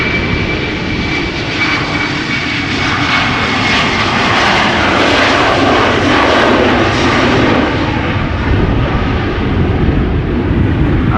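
A KLM Embraer 190 jet, thirteen years old, taking off from Schiphol Airport bound for Stavanger: a loud, continuous engine roar with a high whine running through it, sustained without letup and close by.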